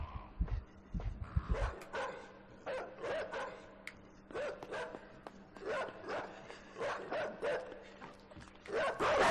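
A dog barks in the video game INSIDE, a series of rhythmic, moderately distant barks repeating in bursts over a low ambient hum, with a few closer thuds at the start.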